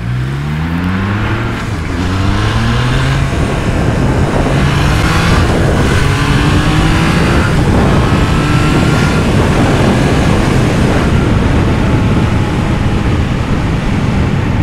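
A Triumph Trident 660 motorcycle engine revs loud and close, its pitch climbing in repeated sweeps as it accelerates through the gears, steady and continuous with no talk.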